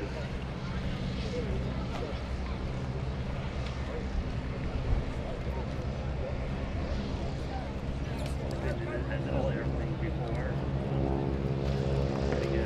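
A T6 SNJ propeller trainer drones steadily at an airshow at Greenwood Lake, a continuous throaty engine hum with a constant pitch throughout, while someone talks over it.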